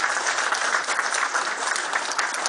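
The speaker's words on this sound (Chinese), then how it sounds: "请大家以热烈的掌声" A hall audience at a mantis boxing centenary celebration in Guangzhou breaks into warm, sustained applause, a thick even wash of many hands clapping with no voices.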